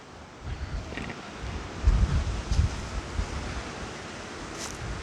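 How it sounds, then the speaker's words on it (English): Strong wind gusts roar and buffet across the microphone outdoors beside a redwood at All Saints Church, Purleigh, Essex, swelling into a couple of louder rumbling blasts midway, with no voices. "You can see just how windy it is."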